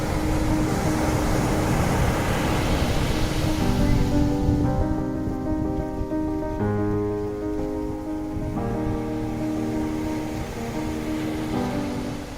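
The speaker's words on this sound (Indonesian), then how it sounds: "Sekarang kita sudah sampai di Pantai Soge di Pacitan." Surf washes steadily onto Soge Beach in Pacitan, a broad continuous roar of waves heard alone at moderate loudness. Faint musical tones rise midway and continue through the rest.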